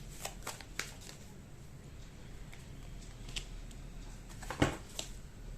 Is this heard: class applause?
no